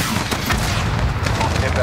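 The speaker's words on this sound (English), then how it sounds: "Gary, put a hellfire on that building." Hellfire missile strike in the Modern Warfare campaign: a sustained, loud, roaring blast with rumbling low end and scattered sharp cracks, like heavy gunfire mixed in, filling the whole moment.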